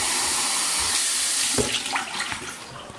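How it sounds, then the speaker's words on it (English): Water gushing steadily from a tap into a sink, a continuous hiss that ends with a clunk and some handling noise as the flow stops. "Put the water on."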